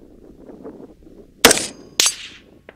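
A Winchester 5.56 rifle fires at a steel target 500 yards out: a sharp, loud crack with a decaying tail, a second report about half a second later, and a faint short tap near the end.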